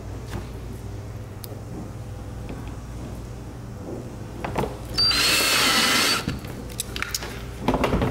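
A power drill drives a self-tapping screw into a kayak hull while an anchor trolley kit is fitted, giving one loud, close whirring burst of about a second amid quiet handling noises.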